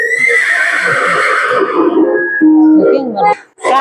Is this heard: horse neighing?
yes